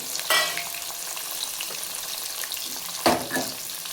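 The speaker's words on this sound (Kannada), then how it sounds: "ಈಗ ಇದಕ್ಕೆ ಈರುಳ್ಳಿ ಹಾಕೊಳ್ಳೋಣ ಈರುಳ್ಳಿ ಉದ್ದಿದ್ದು ಕಟ್ ಮಾಡಿ ಇಟ್ಕೊಂಡಿದ್ದೀವಿ" Chopped onions hit a pan of hot oil with fried urad dal, a crisp burst of frying with a second louder splash, then a steady close sizzle and stirring, no voices.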